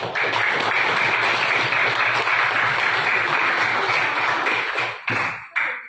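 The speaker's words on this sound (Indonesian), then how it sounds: "Tepuk tangan." Schoolchildren clap together in a classroom, a loud, dense burst of applause sustained for about five seconds, then breaking into a few scattered claps as it ends.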